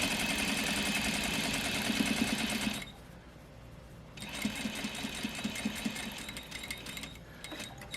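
A sewing machine stitches across the bottom of a double welt pocket with a fast, steady mechanical whir that stops for about a second, then starts again and runs on, close and alone.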